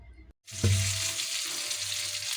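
Fish frying in a pan, starting with a sharp sizzle as it goes into the hot oil, then a steady close crackle that holds to the end with no talking.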